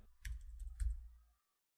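A short burst of about half a dozen computer keyboard keystrokes as a brightness value is entered into image-processing software, crisp and close, ending in silence.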